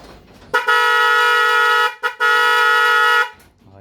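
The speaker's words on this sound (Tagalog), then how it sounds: "Busina." Loud car-style horn blasts from a Yamaha Mio Fino FI scooter being rewired, two sustained honks separated by a brief gap, close and dominant.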